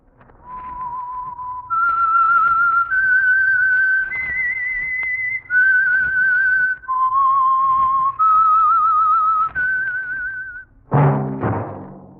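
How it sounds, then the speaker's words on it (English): A clear, solo whistled melody, sustained notes stepping up and down in a slow, eerie tune used as a radio program's signal, ending with a brief burst of orchestral music. "That whistle is your signal for the Signal Oil Program, The Whistler."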